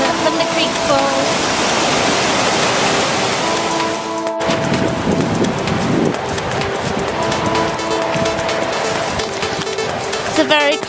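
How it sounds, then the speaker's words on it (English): A creek waterfall in New Zealand on a cold, rainy day roars with a dense, constant rush of falling water, close and loud throughout, with a brief break in the middle. "Look from the creek falls."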